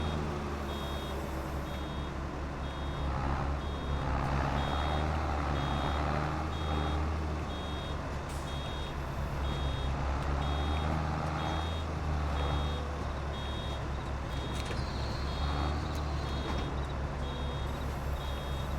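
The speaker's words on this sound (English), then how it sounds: "The incessant beeping is the other reason I don't like the round balers." A round baler in the Farming Simulator 22 video game reverses, sending a steady, repeating backup beep over a constant low drone of machinery.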